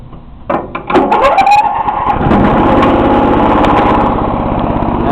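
A Briggs & Stratton 16 HP OHV Intek engine is cold-started by jumping the solenoid with a screwdriver. A few short cranking bursts give way as it catches and settles into a loud, steady running drone close by.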